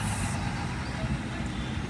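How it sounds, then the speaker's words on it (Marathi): Road traffic at the Satana fair, a dense continuous rumble of trucks, buses and cars with a low engine drone nearby and a faint hiss of brakes. "किती ट्रॅफिक आहे बघा."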